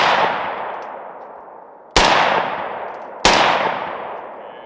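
Three loud, sharp rifle shots from a Cold War era .308 rifle, each ringing out and echoing as it decays, spaced about a second and a half apart with no talking.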